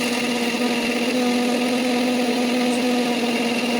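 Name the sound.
mixer grinder grinding cooled spices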